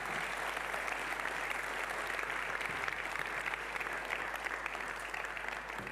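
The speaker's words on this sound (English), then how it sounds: "Give them a warm applause, please, too." Warm audience applause at a public talk, a dense, even roar of clapping that holds steady from start to finish at moderate volume.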